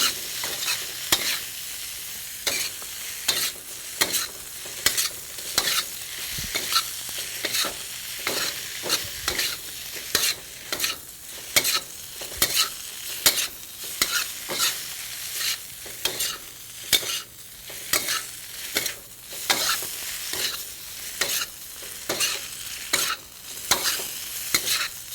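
Spices and curd are stirred in a frying pan, with a steady run of rhythmic spatula scrapes and knocks over a soft background sizzle that continues for the whole stretch, with no voices.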